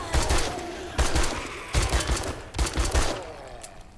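Gunfire in the video game 7 Days to Die: several close, loud bursts of shots at roughly one-second intervals, each a quick cluster of cracks over a rumbling game background.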